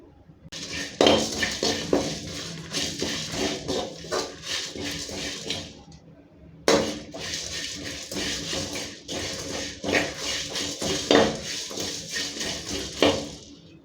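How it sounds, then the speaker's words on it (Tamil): Spices dry roasting in a hot kadai over medium heat for egg masala gravy, with repeated metallic scraping and clinking of a spatula against the pan in two long stretches split by a short pause, close and fairly loud, no talk. "வறுக்க வேண்டியதெல்லாம் இதில் சேர்த்து வறுத்துடலாம்."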